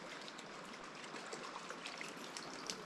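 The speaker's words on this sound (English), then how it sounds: "I hear water. Luna is on the river." Riverside water flowing steadily near Dredge Bridge in Caledon, a soft continuous trickling hiss with no voices, faint and even throughout.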